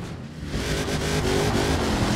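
A car engine in Forza Horizon 4 revving hard under full throttle while climbing a rocky hill, rising from a lower drone into a loud, sustained strain with a climbing pitch.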